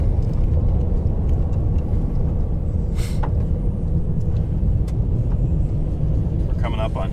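A car taken out for a drive rolls steadily along a gravel road, its low engine and tire rumble continuous and close throughout, with faint crunching above and a brief sharper rattle partway through.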